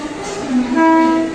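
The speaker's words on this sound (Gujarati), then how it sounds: "આ બાંદ્રા બોમ્બેની લોકલ ટ્રેનનું સ્ટેશન છે" A Mumbai local train at Bandra railway station sounds a steady, loud horn over the rumble of the rolling train, heard close by and without talk.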